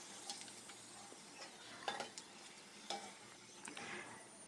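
Store-bought pani puri shells frying in hot oil give a steady close sizzle, with a few sharper clinks of a utensil against the pan.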